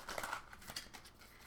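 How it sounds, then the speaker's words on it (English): An oracle card deck is shuffled at close range, giving a quiet run of papery riffling and soft card slaps over about a second and a half, with no voices. "I'm just shuffling."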